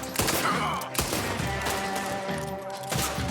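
Gunfire in Red Dead Redemption 2 bursts out in loud, close shots, with sharp cracks at roughly one-second intervals over a busy, continuous background of game sound.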